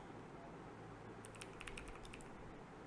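Faint, brief typing on a computer keyboard, a quick cluster of light key clicks in a quiet room.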